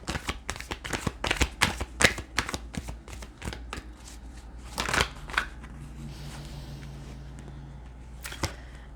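Tarot cards being shuffled by hand, a quick run of crisp riffling snaps and flicks up close, followed by softer sliding and a final few taps, with no talking.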